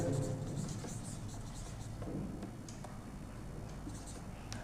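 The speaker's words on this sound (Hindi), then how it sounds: "तो नाम सबका हम लिख दे रहे हैं" Hand writing the names of organs during a class on reproduction, a faint, soft scratching of pen or chalk, quiet and continuous under low background noise, with a voice speaking.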